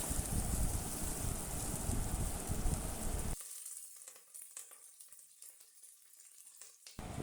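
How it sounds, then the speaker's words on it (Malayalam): Fennel, cinnamon, onion and green chillies sizzle loudly in a hot pan for a few seconds, then the frying drops to a quieter crackle with scattered stirring clicks. "പെരിഞ്ജീരകം, പട്ട, സവാള അതായത് വലിയ ഉള്ളി, 5 പച്ചമുളക് ഇതെല്ലാം ഒന്ന് ചേർത്ത് നന്നായിട്ടൊന്ന് വഴറ്റി കൊടുക്കാം."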